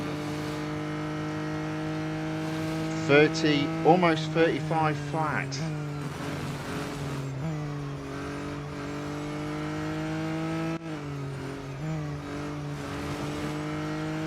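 McLaren Artura GT4 race car in Real Racing 3 holding a steady engine drone with brief revving gear shifts and tire squeal, while someone talks over it throughout.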